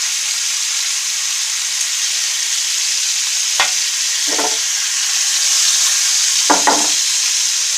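A fish head fries in hot oil, a steady, loud crackling sizzle with a couple of brief low clanks or stirring knocks breaking through.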